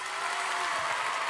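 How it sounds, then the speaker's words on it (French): Steady applause from a studio audience for a Star Academy contestant, an even, fairly soft wash of clapping heard alone without talk. "On l'écoute et on l'applaudit"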